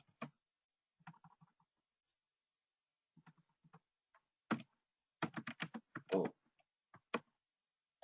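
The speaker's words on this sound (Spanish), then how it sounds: "me cuesta trabajo escribir porque el portátil no es muy apropiado" Laptop keyboard typing, heard as irregular bursts of close, quiet key clicks with short pauses between flurries and no talk over them.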